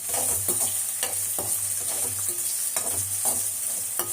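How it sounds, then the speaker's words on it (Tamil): Bitter gourd sautés in a pan, a constant loud sizzle broken by repeated scraping strokes of a spoon stirring, close up, with no talking. "அந்த மாதிரி பாவக்காவே வதக்கி செய்யும்."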